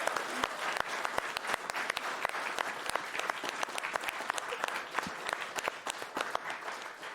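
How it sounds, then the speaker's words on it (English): A sparse audience at a hybrid gaming marathon event claps for the tech staff, with distinct individual claps in an irregular patter at moderate distance, no talk. "Let's all give them a big round of applause."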